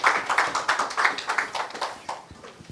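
Audience at a United Nations International Day for South-South Cooperation event applauding as a speaker comes to the stage, steady crisp clapping from a modest crowd at moderate distance, tapering slightly near the end.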